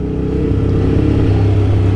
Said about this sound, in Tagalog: May isang motor pa? May maingay.